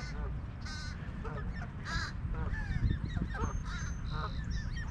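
Geese gathered around food give harsh, repeated honks and caw-like calls, several overlapping bursts close by over steady outdoor background noise.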